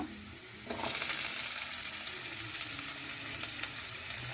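Potatoes drop into hot oil and a loud, bright sizzle erupts, continuing steadily with crackling pops.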